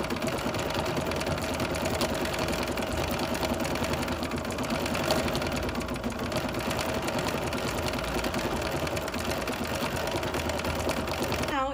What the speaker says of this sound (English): This time it's doing this little star type stitch, just to add a little texture to the edge.